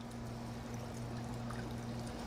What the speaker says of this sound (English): we're gonna take all the toppings and the juices and pour it over